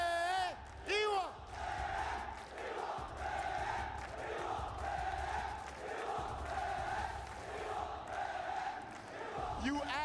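An esports event crowd at EWC 2025 for a Fatal Fury tournament chants and roars in rhythmic unison, loud and close throughout, with whoops and cheers swelling in repeated waves.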